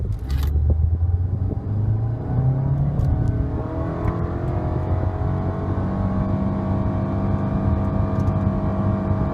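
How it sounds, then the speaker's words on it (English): A 2015 Nissan Altima S accelerates hard from a standstill to 60 mph in sport mode at night, its engine note rising loud and steady from inside the cabin with no talking. "I'll get you a 0 to 60 on this car"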